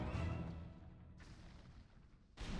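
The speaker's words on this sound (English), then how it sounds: "We blew up the cave. Whoa, I could feel the explosion way up here." A cave being blown up in a blocky fantasy video game: a loud, rumbling explosion that decays into a low roar, with a second burst near the end. No speech.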